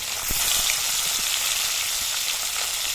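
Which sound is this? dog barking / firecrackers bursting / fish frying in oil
fish frying in oil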